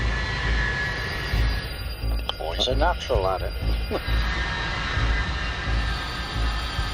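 A 70-ton Avro Vulcan bomber's jet engines run on the ground in a steady, broad roar with a high whine, while a person talks briefly over the noise.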